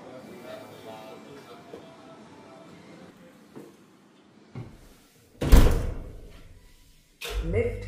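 Automatic lift doors sliding open in a shopping centre in East Kilbride, preceded by soft speech-like sounds, then a loud close clunk and rumble of the doors moving, with a second shorter burst at the end.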